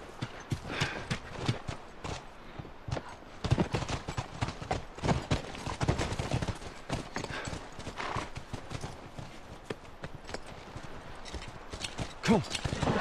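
Rhythmic clip-clop of horses' hooves walking and trotting in the video game The Last of Us, with brief neighs and faint voices mixed in over a busy background.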